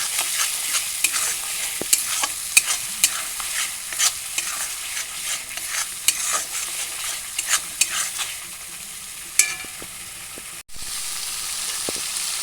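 A spiced mixture with turmeric being sautéed in a pan for dried-fish fritters with pumpkin leaves, with steady scraping and stirring strokes over a soft sizzle and occasional sharp taps of the utensil.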